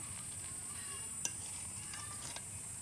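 Hilsa pulao being stirred and turned in a pan, with a steady faint sizzle and occasional soft scrapes and clinks of a utensil against the pan.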